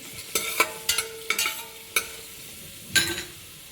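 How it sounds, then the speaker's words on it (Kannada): Medium onion with a bay leaf and a cardamom pod frying in a pan, a soft steady sizzle broken by several sharp spatula scrapes and stirring knocks at irregular intervals. "ಇದನ್ನು ಚೆನ್ನಾಗಿ ಗೋಲ್ಡನ್ ಕಲರ್ ಬರೋ ತನಕ ಫ್ರೈ ಮಾಡ್ಕೋಬೇಕು"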